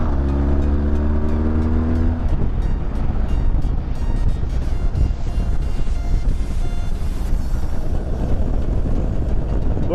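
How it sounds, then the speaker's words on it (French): A motorcycle being ridden without its exhaust baffle, giving a loud, raw, continuous engine roar that rises in pitch as it revs and then holds a steady, rough drone close by. "Donc voilà, rouler sans chicane, c'est fait."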